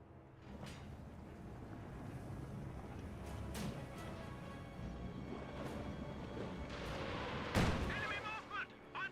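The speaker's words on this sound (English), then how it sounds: "Katyusha barrage running on in." A Katyusha rocket barrage in Company of Heroes 2 rumbles as a string of distant thuds and blasts under continuous battle noise, with sharper impacts near the end, while a commentator talks over it.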